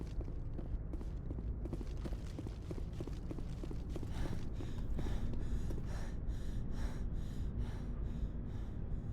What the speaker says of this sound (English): Still panting as I walk up.